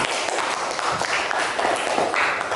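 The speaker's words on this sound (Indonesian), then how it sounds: "tepuk tangan buat Rafa" A classroom claps for a student named Rafa: a dense, steady patter of many hands that lasts a few seconds, with no talk over it.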